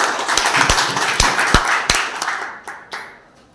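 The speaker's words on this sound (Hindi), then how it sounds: "एक बार जोरदार तालियों से" Scattered hand claps from a small group, irregular and fairly close, thinning out and fading toward the end.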